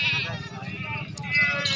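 A goat of the Makkhi Cheeni breed bleats loudly and close by at a busy goat market in Pakistan, with someone talking over the wavering cry.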